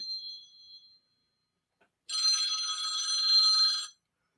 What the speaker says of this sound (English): the dreaded phone.